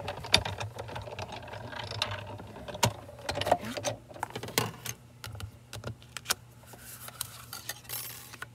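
A die-cutting machine cranks stacked cutting plates through for a papercraft sweater card, giving a steady series of mechanical ratcheting clicks and clunks, moderately loud and close, with no talk.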